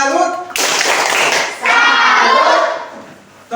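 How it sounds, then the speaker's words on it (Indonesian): A classroom of primary school pupils applauds after a student group's presentation, a burst of close, dense clapping that swells, dips briefly and resumes, with children's voices mixed in. "Beri tepuk salut."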